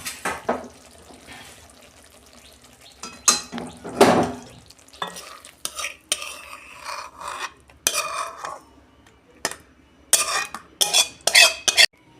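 Cooked fish curry poured and scraped out of a pan, with clattering metal utensil scrapes and clinks arriving in irregular bursts, close and fairly loud, separated by quieter gaps.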